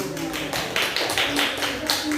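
A classroom of students claps their hands together, a dense run of rapid overlapping claps at close range, with voices mixed in among them.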